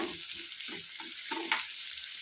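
Onions fry in a pan with a soft, steady sizzle and hiss, close and fairly quiet, with faint low stirring bumps throughout and no one speaking.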